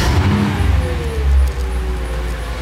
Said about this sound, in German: Ich starte jetzt mal den Motor und dann schauen wir, wie das Quietschen aussieht